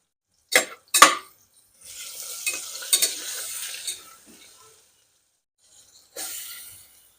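Chilies, ginger, garlic, asafoetida, cumin and turmeric hit hot oil in a pan, giving a few sharp crackling bursts followed by a steady sizzle that fades, then a final short sizzle near the end.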